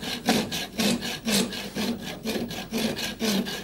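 A hand saw cuts through wood in a steady back-and-forth rhythm, about eight rasping strokes in under four seconds, close and fairly loud with no talking.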